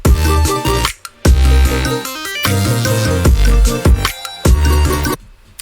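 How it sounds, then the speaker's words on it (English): Electronic track whose synth lead and bass fully mute at points, creating a choppy on-off rhythm of loud bursts separated by abrupt silent gaps; no voices. "the synth lead and bass just cut out at points, just fully mute"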